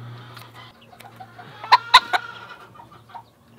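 An Old English Game Bantam rooster clucks while being dubbed, giving a few short, close clucks in a quick cluster over a low steady background hum.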